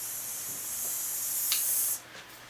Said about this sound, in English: And then I'm going to spray my brush with the MAC Fix